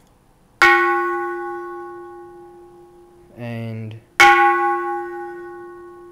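A Japanese bronze Buddhist temple bell is struck twice on its corner, each strike ringing out loudly with a long, slowly fading hum. Between the strikes comes a brief buzzing rattle, and a voice speaks briefly.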